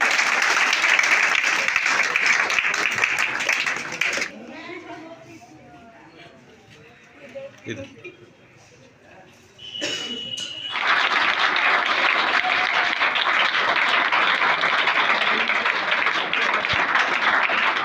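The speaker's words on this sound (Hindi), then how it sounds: "तालियों के साथ स्वागत किया जाए उनका।" Audience applause at an award ceremony honouring students at Smart Academy in Ladhi Bazaar, loud dense clapping that drops away for a few seconds of quieter murmuring, then surges back just as strongly and continues to the end.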